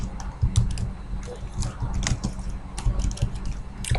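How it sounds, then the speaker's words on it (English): A computer keyboard being typed on with only one hand, giving irregular bursts of close, clicky keystrokes with short pauses, with no voices. "Sorry for typing. I'm actually using one hand to type."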